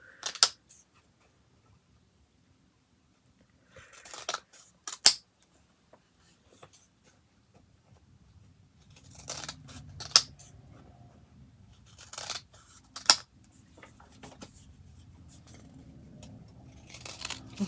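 Scissors snip little strips of paper in scattered bursts of short crisp cuts separated by quiet pauses, close and fairly faint, with soft handling rustle between them.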